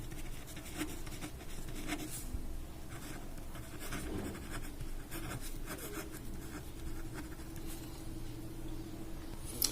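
Steady scratchy pen-on-paper strokes of numbers being written by hand for a maths lesson, close and continuous for several seconds with no talk.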